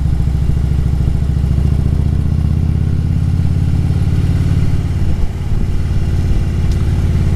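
A Harley-Davidson motorcycle engine rumbles steadily while riding at slow speed, around 15 to 20 mph, a close, loud, continuous low throb that dips briefly near the end and then carries on.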